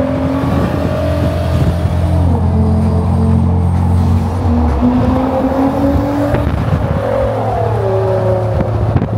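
A Mazda RX-7 engine drones steadily at cruising speed in Japan, the pitch dipping and climbing as gears change, with no one talking.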